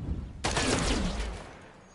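A single loud gunshot fires in the Miasma Chronicles video game, a sharp burst with a ringing tail that fades over about a second and a half.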